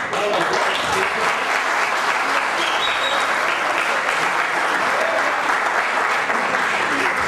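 Sustained applause from a concert audience at a Barranquilla tribute honouring a bandleader, dense steady clapping filling the whole stretch without a break.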